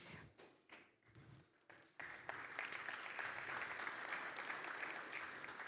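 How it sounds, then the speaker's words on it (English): An audience applauds at the Garmin Fenix 8 launch event. A few scattered claps come first, then the crowd joins in at once and keeps up dense, sustained clapping. "I love the fact that you guys just continue applauding."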